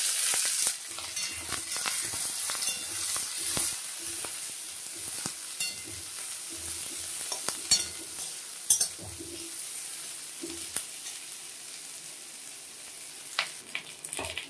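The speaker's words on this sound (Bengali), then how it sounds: "এখন আমি পেঁয়াজগুলো দিয়ে দিলাম, পেঁয়াজ লঙ্কা দিয়ে দিলাম।" Onions and chillies frying in hot oil in a pan, a steady bright sizzle with scattered scraping and clinking strokes of a spatula as they are stirred, close and alone without talk.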